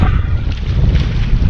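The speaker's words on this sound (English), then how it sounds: "This wind ain't real bad out here" Wind gusting over open ground along a trapline on a windy day, a steady low roar with soft buffeting across the microphone and no voices.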